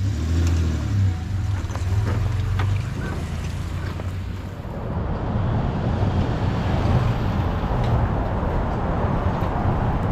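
A V6 Toyota Tundra towing a 1986 Jeep CJ7 down the road: a steady cabin drone of engine, tire and wind noise, with a low hum early on that gives way to broader road roar.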